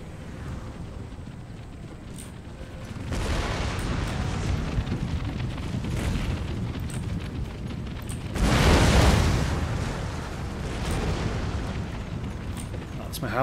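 Howitzer artillery fire in Empire Total War, heavy booming blasts with a rumbling roar, two big swells over a constant low battlefield rumble, loud and close.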